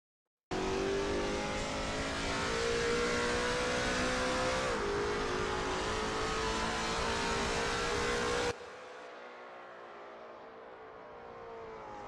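A Lola T70 MkII Spyder race car in a racing game at Österreichring, its engine droning loud and steady at high revs with a brief pitch dip during a shift, then abruptly dropping to a muffled distant hum.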